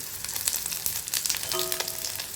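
Cashews frying in oil in a pan while making Arabian beef kabsa: a steady, close crackling sizzle with bright spitting bursts and a brief ringing tone near the end.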